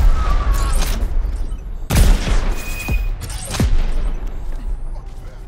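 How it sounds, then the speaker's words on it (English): Explosions from the video game Crackdown 3: a loud rumbling blast near the start, then two more sharp booming detonations about two and three and a half seconds in, with crackling debris and gunfire-like pops between them. "Sometimes only a big-ass explosion will do."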